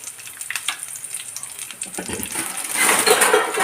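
Cashews and curry leaves fry in hot oil for lemon rice, a crackling sizzle with small clinks from the pan that swells louder toward the end, no talk.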